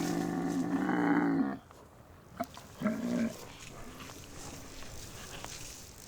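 Cattle belonging to Mongolian nomads mooing, two drawn-out lowing calls a moment apart, the first long and loud and the second shorter, over faint outdoor background with a few small clicks.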